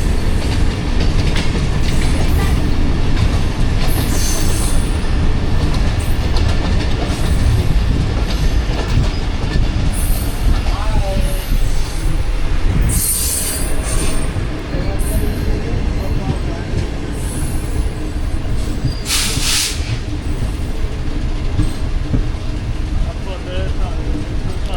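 Pak Business Express train running on rails between Karachi and Lahore, heard from on board: a continuous loud rumble with rhythmic clickety-clack of wheels and occasional hissing bursts, with faint talk in the background.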